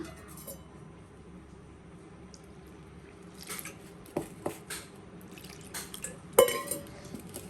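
Quiet at first, then wet squishing and soft slaps as instant vegetable dosa batter is mixed by hand with salt and water, irregular and close, growing busier toward the end.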